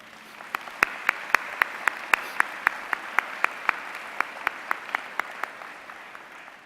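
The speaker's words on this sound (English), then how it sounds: "Let's give them a round of applause." Applause at the 2015 UIC commencement ceremony, with one nearby pair of hands clapping in sharp, evenly spaced beats, about three per second, over a softer, distant crowd that fades out toward the end.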